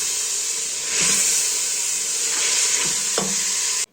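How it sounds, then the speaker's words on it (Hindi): Steady close sizzle of ginger garlic paste frying with onions in hot oil, with a few soft scrapes of stirring over the constant hiss and no voices. "जा चुका है जी अदरक लहसुन का पेस्ट, और भूनेंगे।"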